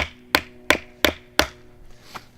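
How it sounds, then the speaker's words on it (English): Four sharp, evenly spaced knocks of hammering on the handle of a Mora Companion knife, close and loud, with a fainter fifth tap trailing after a pause. "My only choice is to hammer on the handle"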